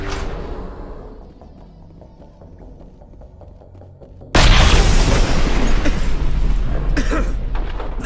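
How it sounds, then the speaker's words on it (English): In the Mass Effect game, a detonator goes off with a sudden, loud, booming explosion after a quiet stretch, followed by a roaring, rumbling aftermath that keeps going to the end. "That was a detonator, Commander."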